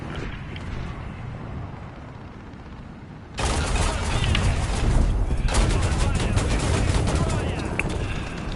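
Gunfire in War Thunder: a distant low rumble of battle swells suddenly into heavy, sustained firing and booming blasts that roll on densely, with a voice talking over part of it.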